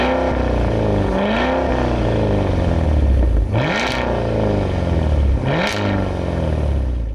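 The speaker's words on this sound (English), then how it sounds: "Take a listen to a couple of revs from a Cadillac Escalade." A 2023 Cadillac Escalade V full-size luxury SUV with a quad exhaust blips its engine in sport mode, three sharp revs rising and falling over a steady idle rumble, close and loud.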